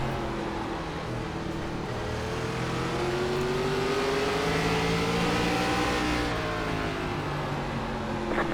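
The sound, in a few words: ARCA race car engine in iRacing video game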